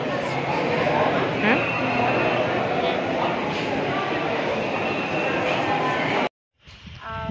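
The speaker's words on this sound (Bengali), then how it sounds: "ট্রেনের মধ্যে ছিলাম, ট্রেনের এত আওয়াজ যে ওখানে কথা কিছু শোনা যাচ্ছে না।" Inside a moving train on the way from Kolkata to Vellore, a loud steady rumble and roar of the carriage fills the scene, with voices mixed into the din before it cuts out near the end.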